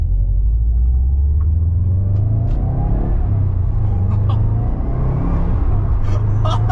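A 2011 Subaru WRX with a newly fitted Ultrex short shifter is driving, its engine droning and rising through the gears over steady low road rumble, loud and close from inside the car throughout.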